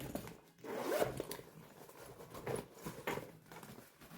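A zipper on a sewn backpack is pulled open close by, giving a soft rasping run followed by a few shorter zipping strokes, quiet and without speech.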